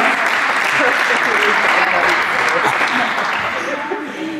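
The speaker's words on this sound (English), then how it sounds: "Give them a big round of applause." A crowd at a North Nodaway High School post prom event in 2018 claps in a loud, dense, steady round of applause that holds throughout, with a voice briefly heard over it.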